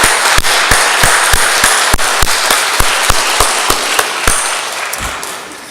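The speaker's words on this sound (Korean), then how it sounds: "은혜로운 찬양 감사하며 박수 한번 하겠습니다." A church congregation claps for the choir, giving a steady wash of applause with sharp, distinct individual claps standing out in a loose rhythm, fairly close, fading toward the end.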